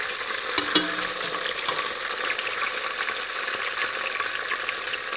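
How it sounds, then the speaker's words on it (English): Cut-up bacon rashers browning in a pan give a steady, close sizzle and crackle with a few brief clinks of stirring, with no talking. "I now have my bacon in browning off"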